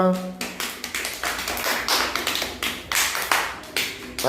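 A class of schoolchildren breaks into several seconds of lively group clapping, loud and uneven with overlapping bursts, framed by brief adult speech at the start and end.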